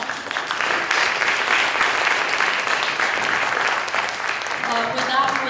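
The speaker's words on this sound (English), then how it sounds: "Round of applause." A room of people applauds candidates at a youth commission candidate forum, dense, sustained clapping lasting several seconds at fairly close range, thinning slightly toward the end.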